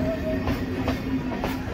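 Circular railway trains run near Howrah Bridge, a steady rumbling rail sound with a few soft rhythmic clacks over a constant hum, fairly close, and nobody speaking.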